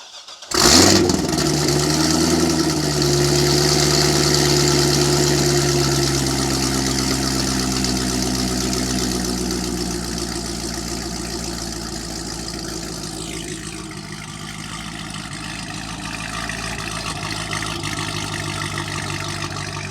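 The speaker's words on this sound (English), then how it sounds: "Let's get a cold start and let's head out." Chevrolet Corvette ZR1 V8 cold start: a sharp crank and catch, a loud flare of revs, then a steady high idle that gradually settles lower and smoother, close and alone without talk.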